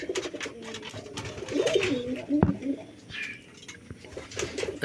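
A male pigeon and its red mate coo in a nesting loft. A few soft, low coos come close by, mostly in the middle stretch, over faint background rustling.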